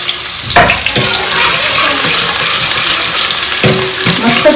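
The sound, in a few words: onions frying in oil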